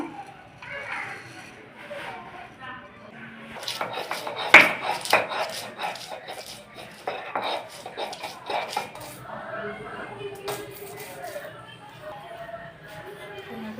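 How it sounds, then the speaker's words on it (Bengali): Ginger, garlic and black pepper crushed by hand on a grinding stone, a close run of rhythmic scraping and knocking strokes that come between quieter moments, with a voice heard at times. "এখন আমি যে আদা রসুন আর গোলমরিচ বেটে নেবো"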